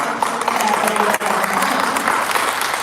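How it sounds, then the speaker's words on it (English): An audience at a town hall meeting bursts into dense, sustained applause, many hands clapping at once in a steady roar of claps. "Can we give Councilwoman Jones a round of applause?"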